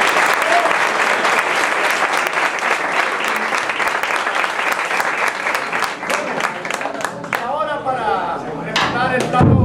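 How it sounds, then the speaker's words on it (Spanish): Loud audience applause after a traditional Colombian cumbia performance, dense clapping that thins toward the end as voices and scattered claps take over. "vamos a dar un fuerte aplauso."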